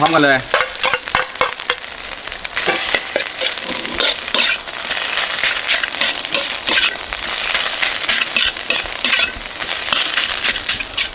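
Rice and salted fish stir-fried together in a hot pan with egg, a loud sizzle broken by frequent scraping and tossing strokes of the spatula, with no voices.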